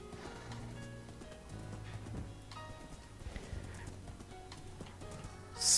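Hooves clip-clop steadily from a horse in the video game Magic World 2, a rhythmic trot of hoof knocks over a quiet, tonal game background, with a brief loud burst at the very end.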